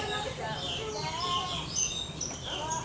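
Birds chirping and tweeting inside a walk-through aviary at Animal Kingdom, scattered small calls over a steady crowd-like murmur and background hum, with people talking nearby.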